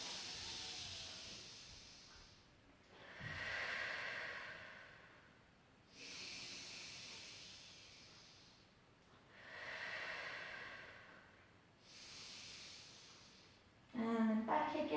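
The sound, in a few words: big breaths in and out during Pilates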